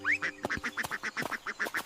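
Cartoon ducks at a pond quacking in a quick, bright run of about a dozen evenly spaced calls, close and clear with no talk.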